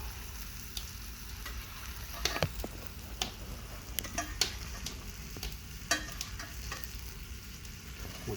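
Venison steaks frying in butter outdoors alongside potatoes, a constant close sizzle with scattered crisp pops and occasional clinks of stirring, no voices.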